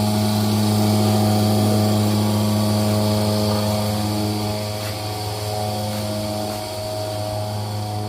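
A freshly serviced engine-driven cow milking machine runs steadily, a loud, close mechanical hum with a strong low drone that eases slightly toward the end, with no voices.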